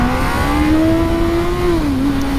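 A 2019 Honda CB1000R motorcycle accelerates hard in first gear, its engine tone climbing steadily in a loud, continuous drone with wind rush, and it eases off slightly near the end.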